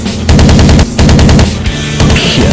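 Loud, sustained bursts of machine gun fire from a WWII fighter aircraft in a flight combat game featuring Spitfires and Hurricane IIC planes, with rapid repeated shots in several long volleys separated by brief pauses; no speech.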